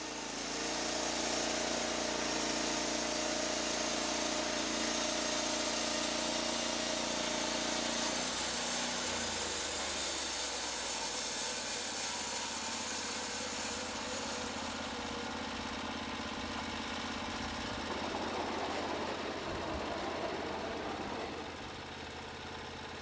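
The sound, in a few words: Norwood LumberPro HD36 band sawmill cutting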